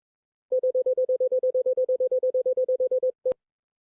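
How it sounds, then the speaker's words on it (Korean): A steady run of about twenty identical short beeps at one mid pitch, evenly spaced like a rapid 'ddu-du-du-du' pattern, played as an auditory demonstration, ending with a brief pause and one final beep with a sharp click. "처음에 그냥 이런 소리가 들립니다. 뚜두두두두 하는 소리가 들리죠?"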